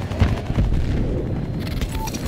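A grenade explodes in a military shooter video game, giving a heavy rumbling blast that rolls on amid steady battle noise and gunfire.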